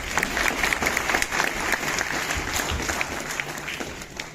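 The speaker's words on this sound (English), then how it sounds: "such a beautiful way to welcome our guests deserves an even bigger round of applause" Dense, sustained audience applause welcomes guests at a state-level children's science exhibition, a loud, even wash of many hands clapping with no pauses.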